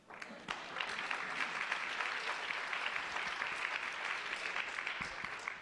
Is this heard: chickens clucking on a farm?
no